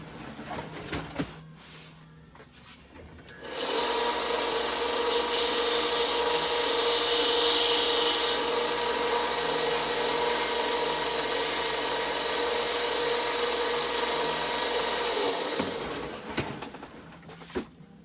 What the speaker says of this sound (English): Now I'm going to take and come over to my sander real quick.